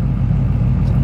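An LS V8-swapped BMW E36 idles with a loud, steady low rumble, the engine note holding constant throughout without revving.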